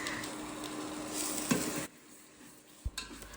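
Coconut, ginger and garlic paste sizzles in oil in a pot, with stirring scrapes and a few metallic clinks; the sizzle cuts off partway through, leaving faint kitchen noise.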